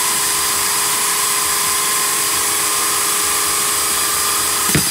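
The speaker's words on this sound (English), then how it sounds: "Let the saw do the cutting." A saw grinding steadily through glass about three-quarters of an inch thick while shaping a glass tobacco pipe, a continuous high whine holding even and close, with a brief knock near the end.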